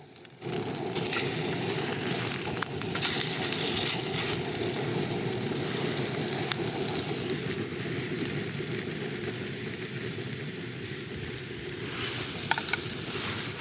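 Food sizzles and fries in fat on a petrol camping stove outdoors, a steady dense hiss with scattered crackles running continuously at close range.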